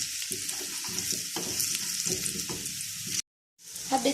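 Egg pieces coated in gram flour sizzle in a pan, turned to cook on all sides, with a steady crackling fry that cuts out briefly near the end, then returns.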